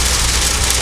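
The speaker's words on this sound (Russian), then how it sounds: "В этом Солнечногорске пошел ледяной дождь." Freezing rain of small ice pellets falling near Solnechnogorsk, a loud, dense, steady hiss of tiny hits with no pauses or speech.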